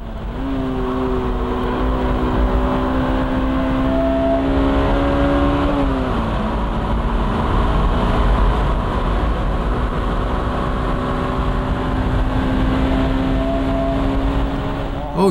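A Honda S2000 accelerating hard on the Nürburgring, its engine note climbing steadily through the revs, dipping at a gear change, then rising again, loud and close from inside the car.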